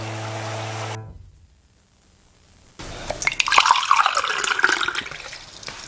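Water from a faucet runs and splashes into a sink, starting after a quiet pause and building into a loud, spattering flow.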